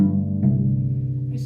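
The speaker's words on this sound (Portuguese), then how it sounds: "Mas o violoncelo, por exemplo, que é o instrumento que meu pai toca" Cello played by a musician, a sustained low-pitched bowed string note that shifts slightly in pitch partway through, close and steady, heard alone without talk.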